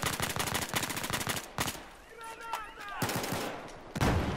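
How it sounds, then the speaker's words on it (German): Rapid automatic gunfire from the player's own weapon in the video game Battlefield 4, a fast rattling burst up front, a few louder single shots, a quieter pause, then another close, loud volley at the end. "Oh shit, jetzt habe ich geschossen."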